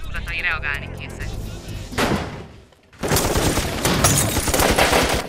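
Burst of rapid gunfire in an amateur Hungarian action film, dense crackling volleys close and loud, with a short lull before heavier sustained firing resumes; shouting voices mix in.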